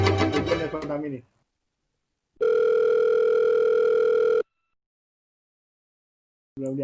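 A single long ringback tone on an outgoing phone call, steady and clear for about two seconds between silences, with a voice just before it.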